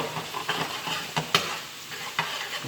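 Garlic frying and caramelizing in a pan for fresh tomato sauce gives a soft, constant sizzle with a few sharper stirring scrapes and clicks, close but fairly quiet, with no voices.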